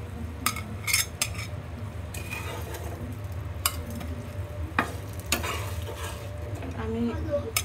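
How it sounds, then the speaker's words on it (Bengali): Chicken grilling in a frying pan on a stovetop gives a steady low sizzle, with intermittent scrapes and clinks of a utensil stirring and knocking against the pan, fairly close and without talk. "আমি ফ্রাই প্যানে গ্রিল করে নিচ্ছি।"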